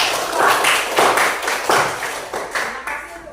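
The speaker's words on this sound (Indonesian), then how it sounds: "Tepuk tangan untuk kelompok" Classroom applause for a student group, a burst of hand claps in uneven waves that rise and fall several times, fairly close and loud.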